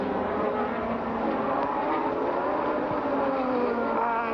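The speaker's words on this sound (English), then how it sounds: "the Ford has certainly gone down the straight as quickly as the McLaren and the Honda" 1987 Formula One cars, a Ford-powered car and a McLaren Honda, screaming down the straight at the Portuguese Grand Prix, a steady high-revving engine wail held at full throttle with no talk.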